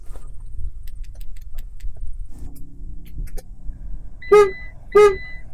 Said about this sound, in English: Using the key fob, press the middle lock button 3 times.